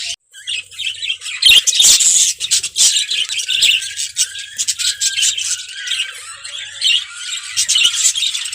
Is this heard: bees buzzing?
no